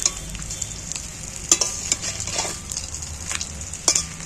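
Steady sizzle of omelettes frying in a pan, with scattered scrapes and clicks of a utensil flipping them one by one, close and unhurried.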